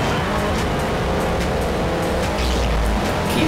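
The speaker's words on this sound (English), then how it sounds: "Maybe the nitrous boost isn't such a good idea" A race car in the Sega Dreamcast game 4 Wheel Thunder roars under a nitrous boost, a loud, constant engine drone with a rough, gritty texture. It holds unbroken for a few seconds with no one talking.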